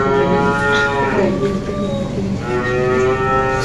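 Cows mooing loudly and close at hand, several drawn-out lowing calls overlapping and following one another without pause, with a farm's dairy cattle as the source.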